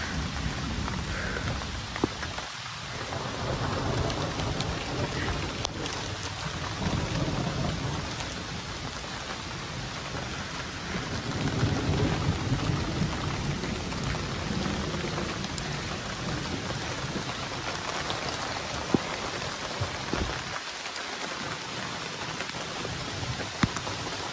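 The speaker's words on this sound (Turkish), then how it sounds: "Büyük bir ihtimalle bu yağmur bir ara hafifler, belki durur." Heavy rain pours steadily and close by, with faint low rumbles that may be distant thunder, continuous and broadband with no voices.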